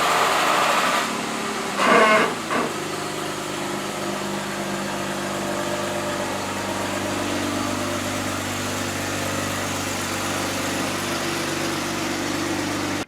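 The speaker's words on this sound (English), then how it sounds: "I got to back my Jeep out" A Jeep engine idles steadily while the Jeep backs out, with a brief louder clatter near the start and then a low, even rumble that holds up close.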